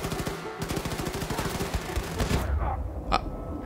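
Rapid machine-gun fire aimed at the player in Wolfenstein II: The New Colossus, dense automatic bursts for over two seconds, then a heavy boom and a single sharp shot as the barrage trails off.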